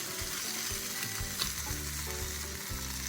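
Dense, continuous sizzling of raw prawns frying in a pan until their water cooks off, loud and close, with a low rumbling bubble underneath throughout.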